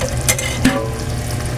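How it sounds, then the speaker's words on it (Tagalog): Canned sardines simmering in a pan, a steady close bubbling and sizzling with a couple of sharp scrapes from stirring utensils against the pan. "habang kumukulo na yung sardinas"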